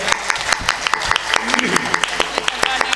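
An audience at a live Hindi comedy show breaks into a dense burst of hand-clapping, quick and continuous, with a voice speaking over it.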